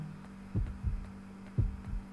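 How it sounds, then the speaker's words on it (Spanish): A heartbeat effect in the horror game Yomawari: Night Alone thumps in two double beats over a steady low hum, fairly loud and close, with no voices. "Y el latido, no sé qué es el latido."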